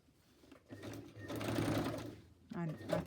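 A sewing machine stitching as an ephemera holder is made, starting faintly, then running in a steady buzzing stretch before a short pause and another brief burst, with a voice speaking nearby.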